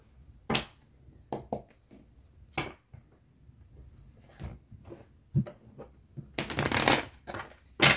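Tarot cards shuffled by hand in a series of crisp riffling bursts and soft slaps, close and clear, ending in a longer, louder riffle.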